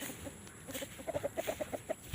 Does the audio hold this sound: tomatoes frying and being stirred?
no